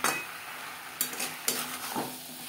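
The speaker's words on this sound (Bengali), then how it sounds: "মশলার সাথে আলু 3-4 মিনিট নাড়াচাড়া করে নেব।" Boiled potatoes stirred with spices in a pan for a Bengali bhetki fish-bone chorchori, with soft scraping sizzle and a few sharper spoon knocks against the pan.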